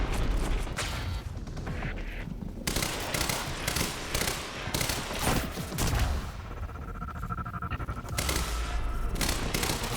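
Enemy gunfire in the video game Quantum Break: loud, dense volleys of automatic shots and bursts that run almost nonstop, with brief booms mixed into the firefight.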